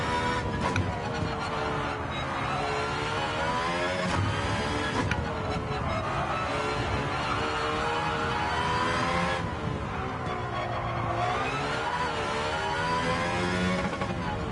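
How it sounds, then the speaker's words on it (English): A race car engine in a racing game on the Nordschleife drones at high, steady revs with a buzzing harmonic whine, stuttering against the rev limiter in repeated dips, loud and continuous throughout. "I love rev limiters."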